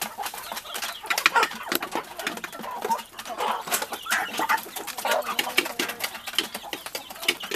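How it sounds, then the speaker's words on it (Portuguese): A hen clucks softly among rapid, high peeping chicks, a busy chorus of small calls close by. "Aí aqui tem a galinha, ó, com os pintinhos."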